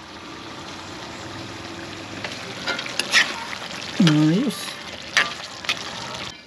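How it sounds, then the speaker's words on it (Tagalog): Chicken adobo sa gata bubbling and simmering in coconut milk in a pot, a steady low sizzle and boil with a few clinks of stirring, while a voice speaks briefly nearby. "Gata na po yung kumukulo na yan."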